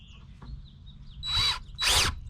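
A cordless drill whirs in two short bursts drilling a screw hole while framing a van bed, close and fairly loud, after a faint click and a brief pause.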